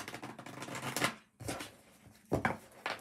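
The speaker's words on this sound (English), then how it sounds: "Being guided to give it one more shuffle" Bursts of papery riffling and flicking from a deck of tarot cards being shuffled, in three or four short rounds with brief pauses between.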